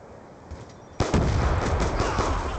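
A Hellstorm missile strike in Black Ops II lands with a sudden loud blast about a second in, then a dense rumbling roar of explosions and gunfire that keeps going to the end.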